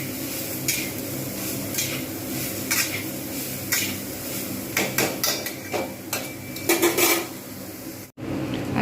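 Cooked soybean chunks scraped and spooned from one pot into another, steady metallic clanks and scrapes of a utensil against cookware, growing busier and louder toward the end.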